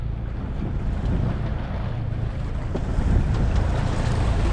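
A loaded boat pushes through rough sea, with a continuous roar of wind, slapping waves and engine rumble, close and loud throughout with no break.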